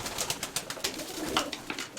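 Pigeons cooing inside a dovecote, soft repeated coos with light rustling and fluttering, fairly close but not loud, no talking.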